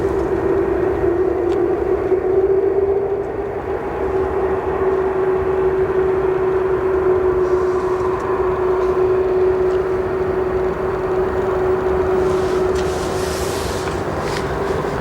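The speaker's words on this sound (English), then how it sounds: "I love this 747" Steady jet engine drone from a Boeing 747 at O'Hare International Airport, a loud continuous tonal hum with broadband roar that holds evenly throughout, with no talking.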